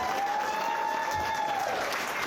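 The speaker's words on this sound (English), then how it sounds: "give us a massive round of applause for Anthony there" Wedding guests applaud after a speech, a dense, steady round of clapping that fills the room with no pauses and no voices on top.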